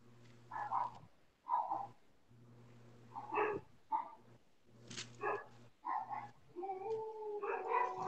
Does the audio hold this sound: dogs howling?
yes